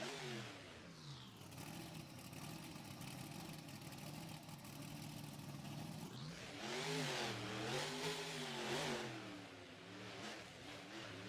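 A monster truck engine at a speedway, rumbling steadily for several seconds before revving up in rising and falling surges, loud and close, with no talk.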